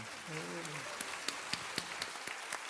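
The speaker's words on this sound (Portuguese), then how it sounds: "Aqui eu peço uma salva de palmas pelo trabalho" Audience applause at a Flip 2016 literary festival stage panel, honoring the stage design work; a voice speaks briefly at the start, then scattered sharp claps sound over a steady crowd patter.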